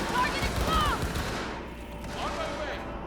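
Sustained video game gunfire crackles as a continuous fusillade of overlapping shots, loudest early and tapering off, with a faint voice underneath.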